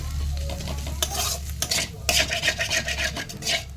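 A spatula scrapes and stirs egg frying in a wok over a constant sizzle, with clanking strokes growing busier toward the end.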